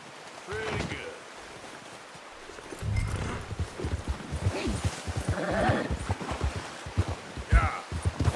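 A horse in Red Dead Redemption 2 whinnies and its hooves clip-clop on the ground, with shorter whinnies and a busy run of hoofbeats mixed with light ambient wind, while people talk nearby.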